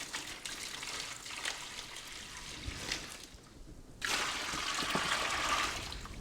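White distilled vinegar poured over rusty cast iron pans to submerge them, a soft trickling pour that briefly stops and then resumes as a fuller, louder gush.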